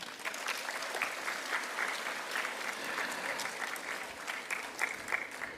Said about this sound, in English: So you also deserve clapping.